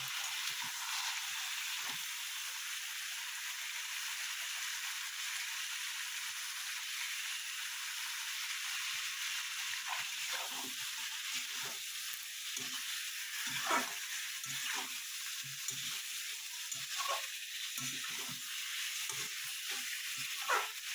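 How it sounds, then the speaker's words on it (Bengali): Chicken pieces fry over reddened onions in a pan for a tomato chicken dish, a constant soft sizzle broken by irregular scraping stirs that grow more frequent partway through. "মাংসটা দিয়ে একটু কষে নেব"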